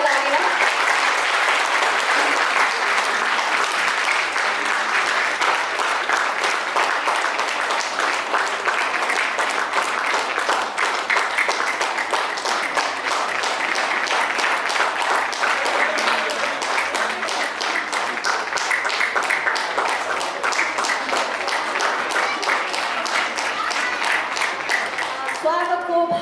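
Guests at a Nepali Christian wedding in 2021 applaud in a long, even, sustained burst of many hands clapping, with some voices mixed in.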